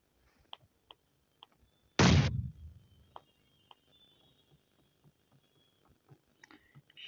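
A single loud, sharp gunshot cracks out in a mobile shooting game, followed by a string of faint, scattered clicks and taps.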